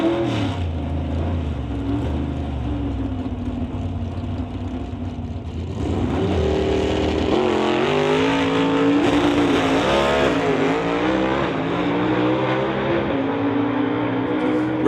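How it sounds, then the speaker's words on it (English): A 1965 Mustang and a Camaro at an NHRA Summit ET Series drag race, engines roaring loud and close, revving higher about halfway through as they launch, with a steady rising drone throughout. "Gene Kerner brings out the 1965 Mustang to race Steve Braithwaite in the Camaro"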